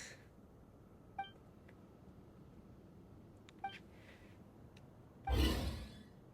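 Short electronic robot beeps from the video game Genshin Impact, a few high chirps scattered over quiet background, followed by a louder burst of noise near the end.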